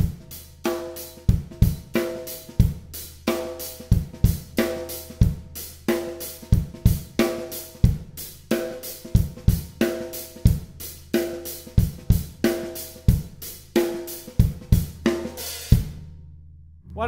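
A drum kit plays a steady swing groove with soft ghost notes between the accents and a regular bass drum pattern, close and crisp, continuing alone for about sixteen seconds before a final cymbal decays.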